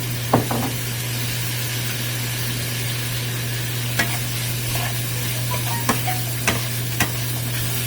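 Curry stir-fried in a pan after a spoonful of Worcestershire sauce goes in, with a low steady sizzle and a hum beneath a handful of sharp spoon clacks and scrapes against the pan.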